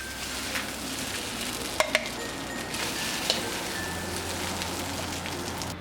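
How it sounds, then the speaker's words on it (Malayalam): Curry leaves crackle in beef frying in a pan for a Kerala beef fry, a steady moderate sizzle with a few sharp pops and clicks scattered throughout. "ഇതിലേക്ക് കുറച്ചധികം കറിവേപ്പില ചേർത്ത് കൊടുക്കാം"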